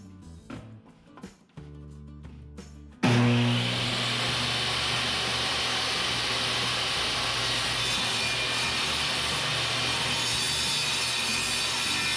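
A power saw rips steadily through the rough edges of a glued-up wooden cutting board, starting abruptly after a few seconds of light handling noises and then running loud and continuous to the end.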